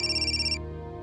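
A telephone rings with a bright electronic tone, a single loud, close burst that cuts off halfway, with a steady tonal backing underneath.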